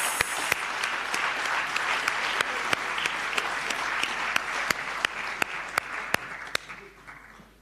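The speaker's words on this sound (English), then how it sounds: "Can we give him another round of applause?" Memorial lecture audience gives a full round of applause, a dense crowd clapping that holds steady, then thins toward the end as a few sharp, louder individual claps stand out.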